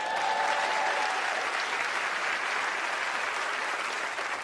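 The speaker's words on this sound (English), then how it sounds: "a round of applause for Penn and Teller as they join me on stage" Studio audience applause greets Penn and Teller as they join a magician on stage at a taping of Fool Us, steady dense clapping at full volume from the start, with faint whoops at the outset, then easing slightly near the end.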